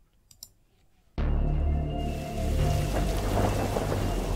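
A thunderstorm in the Darkside Detective video game opens quietly with a few faint clicks, then thunder cracks in loud and close and gives way to heavy, sustained rain with a deep rolling rumble beneath.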